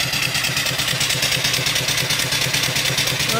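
A live steam engine runs steadily at about 300 RPM, its rapid, even chuffing beat carrying on loud and close without pause.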